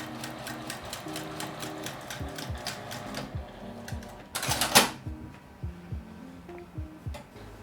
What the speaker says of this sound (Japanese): 端に寄せておいて縦にも縫います。